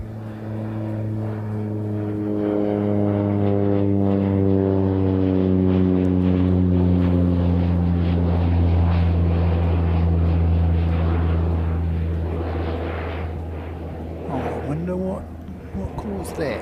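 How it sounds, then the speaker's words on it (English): A propeller plane aborting its landing and going around, its engine drone steady and loud with a rising then gradually falling tone over many seconds, a person speaking faintly near the end. "Oh no, he's not landing. He's going around."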